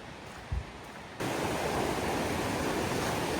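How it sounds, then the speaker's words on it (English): A constant broad rush of falling water from a waterfall at Eagle River, Alaska, in autumn, steady and fairly loud, with a short thump near the start before the roar swells. "I can actually hear the waterfall from here,"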